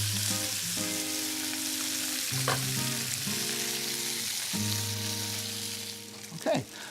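Farmer's market bok choy halves sizzle steadily in a hot pan, a constant close frying hiss with occasional clinks and stirring sounds on top, no voices.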